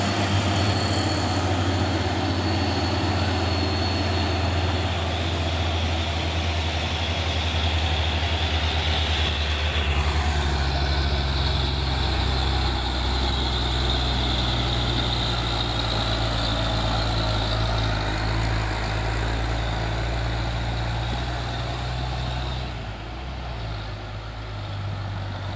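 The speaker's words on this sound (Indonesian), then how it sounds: "ini ada dua unit truk tangki Fuso Sioren ya bosku, yang menanjak bareng" Two Fuso tank trucks climb the Bukit Kodok hill together, their diesel engines droning loud, steady and low under load. The tone shifts in pitch partway through, and no one talks.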